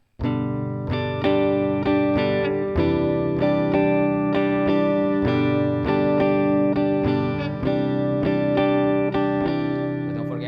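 A guitar strums chords in a repeating down, down, up, down pattern, with crisp, evenly spaced strokes that ring on clearly and close up.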